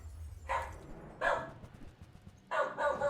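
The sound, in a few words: dog barking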